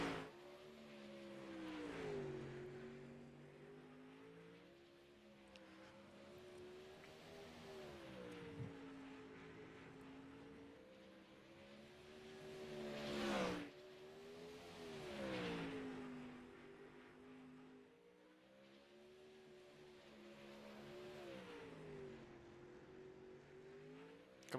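360 sprint cars lapping Lanier Speedway, engines rising and falling in pitch as they pass and swing through the corners, loud and continuous with sharp surges on each pass.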